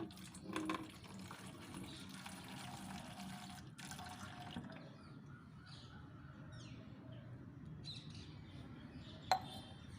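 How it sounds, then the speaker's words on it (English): Organic pesticide solution pours into a 5-liter can, a soft, continuous trickling fill, with birds calling faintly in the background and one sharp knock near the end. "So I am going to pour this solution"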